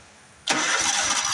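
A small engine fires up the moment the key is turned, with the coil wire pulled off, and settles straight into a steady, loud mid-pitched running roar that stays close and fills the rest of the moment.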